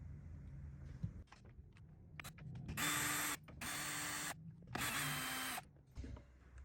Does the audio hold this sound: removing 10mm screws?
yes